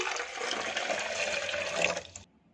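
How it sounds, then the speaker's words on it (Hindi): About 500 ml of water pours into a serving glass for a lychee drink, a steady splashing stream for roughly two seconds that then cuts off abruptly. "मेरा जो सर्विंग ग्लास है वो तकरीबन 500 सौ का है सो मैं इसमें 500 सौ पानी शामिल कर रही हूँ"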